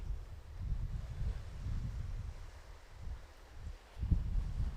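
Strong, gusty wind buffets the microphone at a sheltered beach called Fisherman's Beach near Albany, a steady low roar that swells and eases, with a louder gust near the end and no voices.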